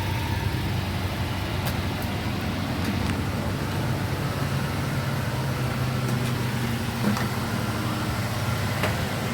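The 2TZ-FE engine of a 1992 Toyota Previa with a 5-speed manual runs steadily at idle after a cylinder head replacement, a close, even low hum with faint ticking and no talk.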